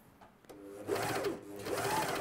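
A Britannia coverstitch sewing machine runs through thick fleece in two short bursts, its motor whirring up and humming steadily at close range after a brief click.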